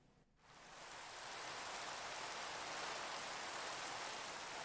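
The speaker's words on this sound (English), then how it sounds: "I think the rain was a coincidence." Steady rain pours down in the Minecraft video game, a dense, even hiss that swells in over the first second and then holds constant with no talking.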